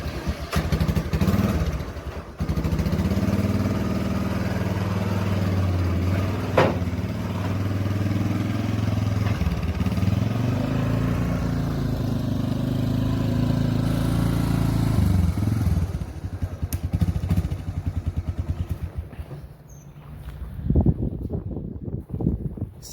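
A 1987 Honda Big Red ATC250ES three-wheeler's engine runs steadily and loudly up close for most of the stretch, with a low, continuous mechanical drone that drops away briefly near the end before picking up again.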